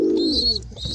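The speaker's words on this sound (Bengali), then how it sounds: "দেখো তোমরা কিন্তু বড় পায়রা পাচ্ছ, তার সাথে কিন্তু বাচ্চাও পাচ্ছ" Domestic pigeons of the Madras breed give a short, close coo, a low throaty burble with a brief higher whistling note above it. It sounds alone, with no voices.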